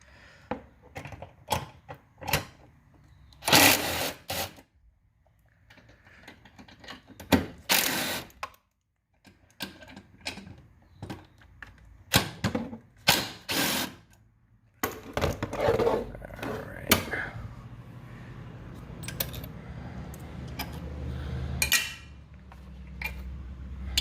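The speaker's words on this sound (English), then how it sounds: "down here we have 3 10 millimeter bolts. And we're going to take those out as well." A hand ratchet removes three 10 mm bolts on a 2010 Toyota Corolla, heard as bursts of quick clicking separated by pauses, with a longer, denser stretch of ratcheting and clatter near the end.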